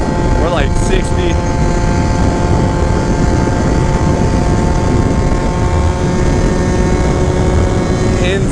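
A Yamaha JOG 3kj scooter engine revving hard at high speed while riding: a loud, steady high-pitched buzzing whine with constant wind roar, and a voice talks briefly near the start.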